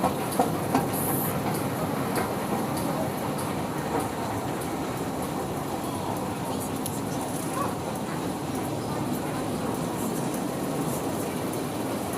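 A train rolls past in a continuous, steady rumble with faint rhythmic clatter, heard close and moderately loud throughout.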